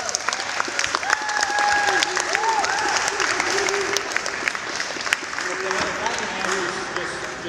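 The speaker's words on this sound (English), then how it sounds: "I would like for all the students to give themselves a round of applause" Schoolchildren at a West Philadelphia school assembly clap together in a loud, continuous round of applause, with scattered voices and a few tonal calls mixed into the clapping.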